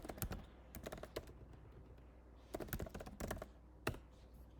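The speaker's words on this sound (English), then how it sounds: "we are typing here the email" Bursts of rapid keyboard typing, crisp close clicks in several quick runs separated by short pauses, no voices.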